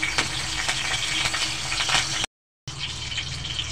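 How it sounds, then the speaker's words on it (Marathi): Curry leaves crackle and sizzle in hot oil in a kadai, a loud, steady close-up hiss with small pops, briefly cut off before the sizzling resumes. "कढीपत्ता घाला, तेल गरम झालेला आहे।"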